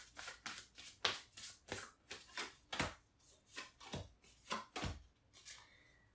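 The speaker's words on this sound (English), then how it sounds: "I literally can't even shuffle these cards." A deck of tarot cards is shuffled by hand, producing about a dozen quiet, crisp riffles and slaps in an uneven rhythm, close up with no talking.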